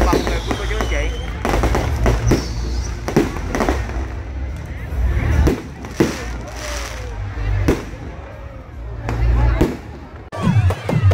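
Fireworks bursting at a public ceremony in Tinh Bien town, An Giang province, Vietnam: a rapid run of loud, sharp cracks and booms over about eleven seconds, with crowd noise and voices beneath.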